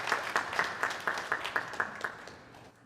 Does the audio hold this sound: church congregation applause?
yes